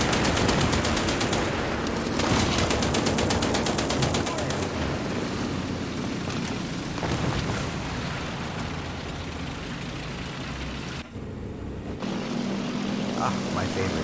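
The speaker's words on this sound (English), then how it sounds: "You gotta love the forward-facing firepower of a bunch of machine guns" A fighter plane's forward-facing machine guns, two in the nose and two in the wings, fire in War Thunder in long rapid bursts over a droning propeller engine. A short break in the firing comes near the end before the engine roar returns.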